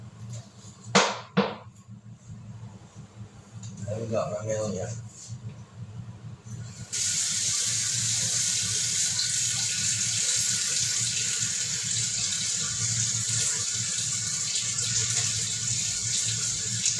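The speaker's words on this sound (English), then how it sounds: "Why am I running the fucking water?" A sink tap indoors is turned on after a few brief knocks and handling noises, then water runs in a loud, steady hiss that continues to the end.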